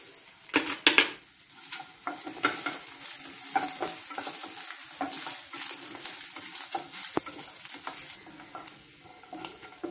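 Clam meat and coconut pieces fry in a pan for a Kerala-style dry fry, a dense crackling sizzle broken by repeated close scrapes and clinks of a utensil stirring, loudest in the opening seconds, with no voices.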